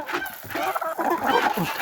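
Chickens in a rural home yard cluck and murmur softly at close range, a busy overlapping flock sound at feeding time with no talking.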